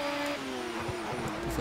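A Ford Mustang GT engine in the Project Cars racing game gives a steady droning note that shifts in pitch, with faint tire noise, loud and up close, with no talk over it.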